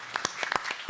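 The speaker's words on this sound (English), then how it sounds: "Let's give them a round of applause." Attendees at a city staff and elected officials meeting on a draft master plan clap briefly, a short spatter of separate, fairly close hand claps from a small group rather than a full crowd.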